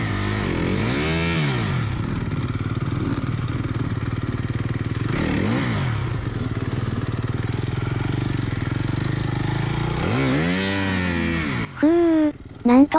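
A Japanese off-road motorcycle engine churns and revs in rough, rising bursts on a slope, sputtering and cutting out before restarting near the end.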